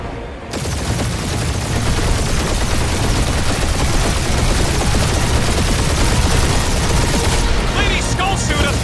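A loud, sustained barrage of rapid gunfire in the video game Guardians of the Galaxy, kicking in after a short pause and pounding on without letup, with voices mixed in beneath the shooting.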